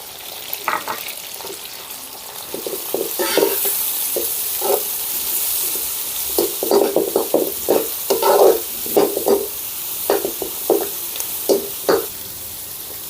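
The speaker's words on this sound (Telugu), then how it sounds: "మన వెల్లుల్లి పచ్చిమిర్చి వేగేయండి ఇప్పుడు సన్నగా తరిగిన ఉల్లిపాయ ముక్కల్ని కూడా వేసుకుందాం" Garlic, green chili and finely chopped onion fry in a pan for egg fried rice, with a steady close sizzle. Quick bursts of stirring and scraping speed up in the second half, and no voices are heard.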